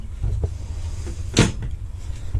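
A large storage drawer under the bed of a new caravan slides and thumps shut once, a single short clunk over a low background rumble.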